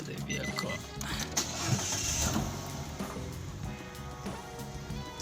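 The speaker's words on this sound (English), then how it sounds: "Let me start the vehicle." A Nissan Juke engine cranks and starts up, then settles into a steady idle heard up close, with a voice talking faintly underneath.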